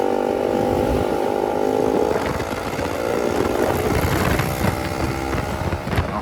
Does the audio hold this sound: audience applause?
no